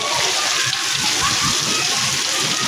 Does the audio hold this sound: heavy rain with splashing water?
yes